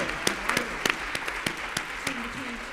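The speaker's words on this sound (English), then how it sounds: "Big round of applause for our panel." An audience at a town hall meeting on local reparations applauds a panel with scattered, distinct claps that are moderately loud and close, while faint voices murmur underneath.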